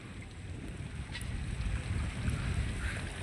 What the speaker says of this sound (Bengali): এই সাইডে আবার আপনার অনেকগুলো জাহাজ ট্রলার চলাচল করতেছে